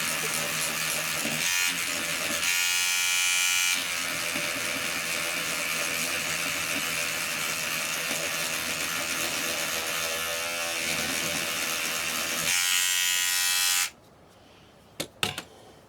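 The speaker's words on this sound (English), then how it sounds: "put it over the electric toothbrush to clean it up" An electric toothbrush buzzes steadily and closely as it scrubs isopropyl alcohol over a broken double plug socket part. The motor's pitch wavers, then it cuts off, leaving a couple of faint clicks.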